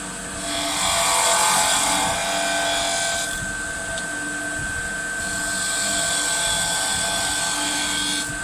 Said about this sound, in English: Like with the skew, cutting downhill, blending in this middle portion.